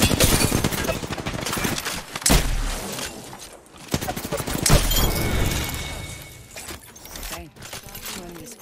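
A video game shootout with rapid, loud gunfire that comes in dense bursts and sharp cracks, with impacts throughout and brief lulls.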